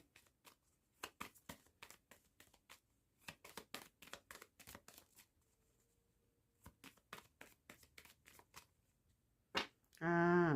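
Tarot cards are shuffled in repeated quick riffling bursts, soft and close, with short pauses between runs of crisp flicking.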